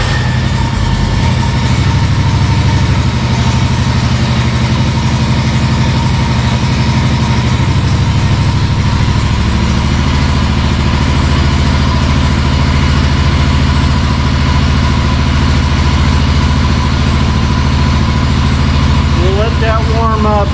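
A lawn mower engine idles steadily while warming up, a loud continuous low rumble with an even chugging texture that runs unbroken for the whole stretch.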